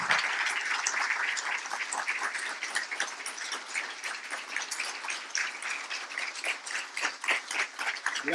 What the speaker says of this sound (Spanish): un fuerte aplauso para recibirlo al doctor Jorge Ibáñez